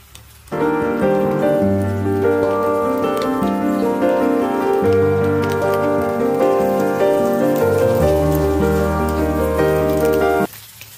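Coated fish fingers frying in hot oil give a dense, continuous crackle and sizzle, loud and steady throughout, with a tonal musical backing layered on top.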